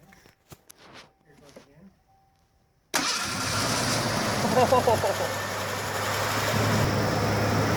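Swapped engine in a Ford Bronco II cranks and fires for the first time after quiet talk, then settles into a steady, loud idle close by.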